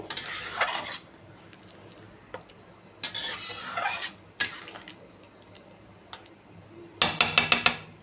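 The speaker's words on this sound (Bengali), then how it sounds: "ভালো করে নাড়িয়ে" Food being stirred in a pan while cooking soyabeans, three bursts of scraping spoon strokes separated by quieter pauses, the last burst ending in quick sharp clinks against the pan.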